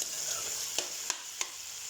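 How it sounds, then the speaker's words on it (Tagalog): Chopped tomatoes fry in a pan with a steady close sizzle and hiss, broken by three sharp scrapes or taps as they are stirred. "Ginayat natin na kamatis guys. And halo-haloin lang natin to guys para medyo maluto ng konti."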